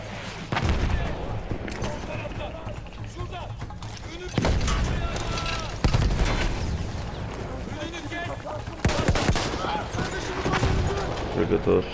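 Artillery fire in Battlefield 1 sends heavy booming blasts and rumbling shell impacts at intervals, mixed with gunfire, while a player talks over the battle.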